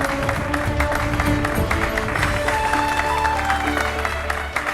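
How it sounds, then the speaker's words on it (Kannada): Children clapping together in a ceremony, a dense, continuous patter of many hands at steady loudness, close and sustained, with faint voices mixed underneath. "ಹೊಡಿರಿ ಚಪ್ಪಾಳೆ."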